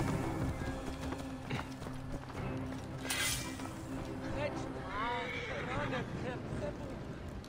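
A horse gallops with a steady clip-clop of hooves and gives a wavering whinny in Assassin's Creed Origins, set in ancient Egypt, with loud talking over the game sounds throughout.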